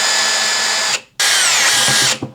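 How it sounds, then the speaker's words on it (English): A power drill with an 8 mm bit bores a pilot hole through several stacked pieces for a DIY mosquito trap, whining loud and close in two long runs separated by a brief pause, ending with a short stop-start. "I still want to use a drill so that I can drill right through multiple"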